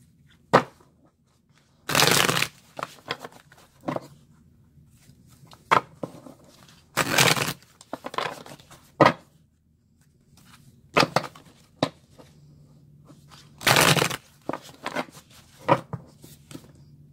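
Oracle cards are shuffled in several brisk riffling bursts, separated by quiet pauses and a few soft taps and clicks, close by.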